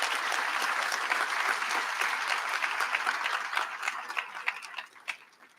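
Applause from a commencement ceremony audience, a steady burst of many hands clapping that thins and tapers off toward the end.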